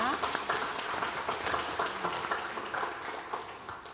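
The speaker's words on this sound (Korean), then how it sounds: "하나님께 영광의 박수를 드리겠습니다." A church congregation at a Wednesday service in Daegu claps in steady, continuous applause while a voice carries on over the clapping throughout.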